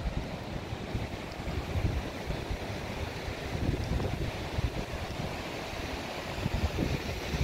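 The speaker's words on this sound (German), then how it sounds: "Oh, die Wellen schlagen ganz schön." Strong wind and breaking waves roar continuously on the Baltic Sea coast during a severe storm surge, a dense, loud wash of surf and gusts with no talk.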